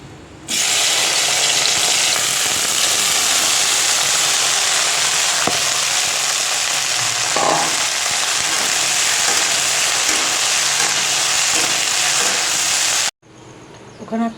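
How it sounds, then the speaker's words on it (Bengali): Okra slices fry in hot oil seasoned with nigella seeds, giving a loud, steady, crackling sizzle that runs without a break for about twelve seconds before it cuts off abruptly. "এবার ভেন্ডিগুলো দিয়ে ভাজা করে নেব।"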